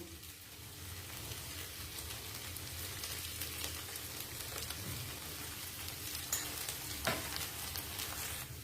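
Sabudana mixture with peanut powder is stirred in a pan, giving a steady close sizzle with light scraping and occasional soft clicks, and no one is talking.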